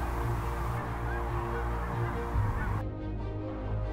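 A large flock of geese honks continuously in a field shared with sandhill cranes, many overlapping calls forming a steady, fairly close chorus with no pauses.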